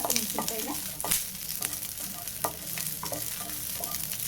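Steady sizzling from a hot pan with repeated scraping and clinking as the food is stirred, fairly close, no voices.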